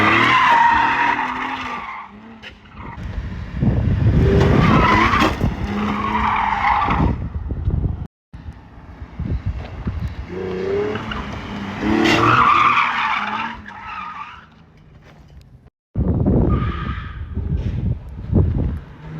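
Nissan 370Z with a welded differential skidding, loud tire squeal and scrubbing chirps over a revving engine in repeated bursts, with brief near-silent breaks between runs.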